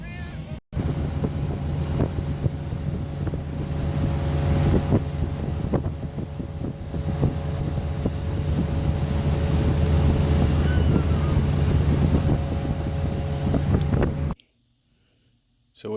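Motorboat powered by a Mercruiser 4.3 engine running steadily on a river in hot weather, a constant low drone with wind buffeting the microphone, continuing for about fourteen seconds before cutting out.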